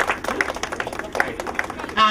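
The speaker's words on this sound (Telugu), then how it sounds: "గట్టిగా చప్పట్లు ఒకటి" An audience at an event claps together in a brief, moderately loud round of applause, with scattered uneven claps that fade within about two seconds.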